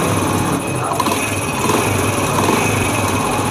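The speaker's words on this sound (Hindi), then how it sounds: "हेडलाइट भी चल रही है और बाइक स्टार्ट भी हो चुकी है" A Honda CD 70 motorcycle engine fitted with an HHO hydrogen kit idles steadily after starting, a close, continuous buzzing hum with a high whine and no talk over it.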